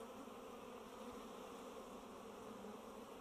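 Steady dense buzzing of honeybees and drones inside an open hive that may have lost its queen, a continuous close hum with no pauses and no voices.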